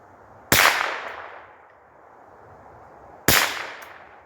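Two sharp, loud .22 rifle shots from a CMMG conversion bolt, about three seconds apart, fired at a steel target 200 yards away, each crack followed by a lingering ringing decay outdoors, with no talking.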